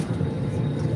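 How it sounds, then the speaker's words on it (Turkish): A steady low engine roar of an airplane, droning evenly without break. "O uçak, aynen uçak."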